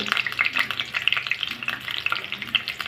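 Chopped onion, slit green chilies and a bay leaf sizzle in hot oil, a dense, steady crackle close by with stirring scrapes mixed in, and no voices.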